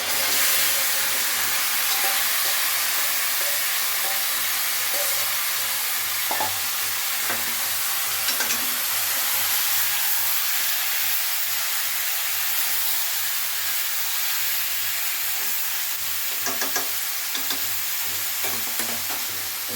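Chicken pieces fry with onions in a pan for chicken kosha, a constant moderate sizzle and hiss with intermittent stirring clinks and scrapes, close and unbroken, no speech.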